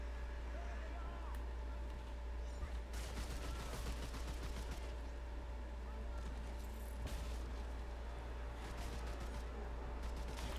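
Gunfire in the video game Remnant 2: rapid bursts of shots cluster in the first half and return briefly later, over a constant low rumble of game ambience.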